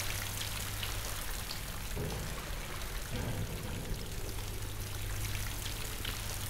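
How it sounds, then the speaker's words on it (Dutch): Running water in the video game Half-Life 2 gives a constant, moderately loud splashing and trickling wash throughout, with no voices. "ik hoor stromend water hier, maar het stroomt niet"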